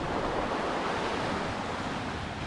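Ocean surf washing onto a deserted beach in Lombok, Indonesia, a steady, dense broadband roar that holds without a break, with no voices over it.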